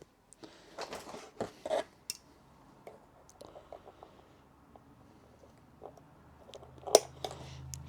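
Scissors snip through cardboard for a model airplane in scattered, close, crisp cuts and rustles, with quiet pauses between strokes.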